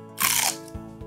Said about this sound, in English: the celery, it wasn't very soft. It was definitely crunchy.